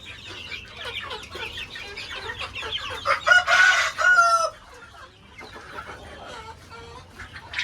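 Deshi chickens and roosters on a farm cluck and call close by, with a loud rooster crow rising briefly in the middle amid ongoing clucking; a person talks softly at points.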